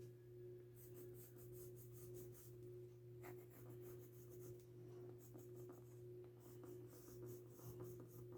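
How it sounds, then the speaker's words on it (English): Green crayon pencil drawing dark stem lines on watercolor paper, several bursts of soft scratchy strokes in close succession over a steady low hum. "we'll take our green crayon pencil and we'll draw in some dark lines on where we want our stems to be"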